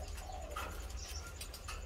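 A tame male pigeon, grey and three and a half months old, coos softly and repeatedly in short pulsing phrases against a low background hum.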